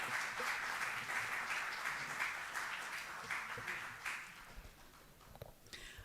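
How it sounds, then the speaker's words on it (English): An audience at an international workshop applauds to welcome the keynote speaker, a soft, fairly distant wash of clapping that gradually fades out into scattered claps. "Please, a huge round of applause and welcome."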